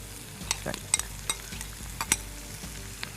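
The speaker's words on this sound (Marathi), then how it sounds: "ह्याच्यात कालवा मिक्स कर" Clams stirred into a salad mix with tomato, a spoon scraping and tapping in the bowl in quick irregular strokes, close and fairly loud.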